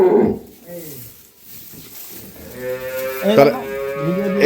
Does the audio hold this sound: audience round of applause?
no